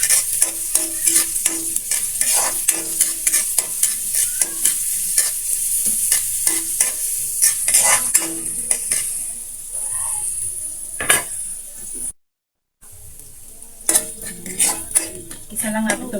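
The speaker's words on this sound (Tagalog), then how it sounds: "Magigisa na tayo ng ating mga ricados. Lagyan natin yung ating bawang at sibuyas." Garlic and onion sauté in a pan with loud, close sizzling and frequent rhythmic scrapes and clinks of a metal spoon against the pan, briefly cutting out near the end before the stirring resumes.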